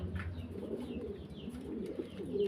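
Pigeons at a pigeon farm coo softly and continuously in low, murmuring calls, with faint chirps overhead and a steady room background.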